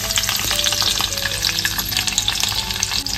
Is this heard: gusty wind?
no